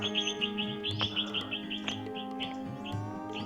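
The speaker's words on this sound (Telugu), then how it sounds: "పిచ్చుకల సౌండ్ వినిపిస్తుంది అనుకుంటా," Sparrows chirping in Gandipet Park in Hyderabad, a run of quick repeated high tweets over a steady hum of background noise, with no one talking.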